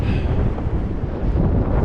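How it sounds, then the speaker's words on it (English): Strong wind buffets the microphone high up on a bridge about 200 feet above the ground, a loud, steady low rumble with gusty surges and no voices. "it's super, super windy up here."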